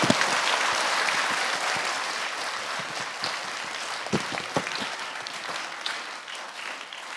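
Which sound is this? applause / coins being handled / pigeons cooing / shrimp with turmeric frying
applause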